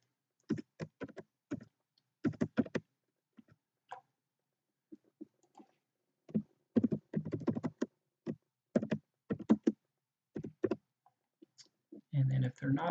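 Typing PHP code on a computer keyboard, close clicking key presses in irregular bursts separated by short pauses, with a louder flurry at the end.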